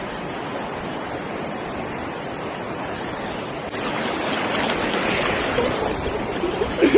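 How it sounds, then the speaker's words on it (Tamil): Rushing river water heard up close during a crossing on a forest trek, a steady broadband flow and splash that continues without a break. "யானையை பார்க்குறக்காண்டி ஒரு பயங்கரமான ஆற்றை கடந்து போய்கிட்டு இருக்கோம்."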